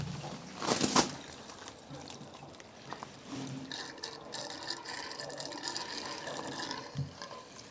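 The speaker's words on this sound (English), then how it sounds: "Splash of petrol in this." Petrol splashed from a container into a small borrowed generator on a Nordic homestead, a short close pour of liquid near the start, followed by quieter handling noises and faint background activity.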